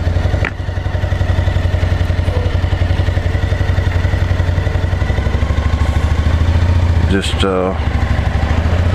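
An ADV motorcycle engine runs with a loud, close, rapid thumping rhythm while riding on a rainy day, steady throughout, with brief speech over it near the end.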